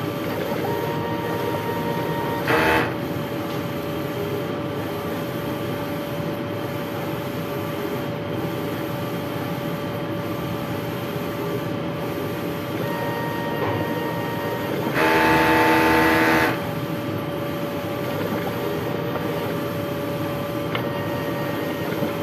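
A sublimation printer running a head clean cycle gives a steady mechanical hum, broken by two louder whirring bursts, one short early on and a longer one later.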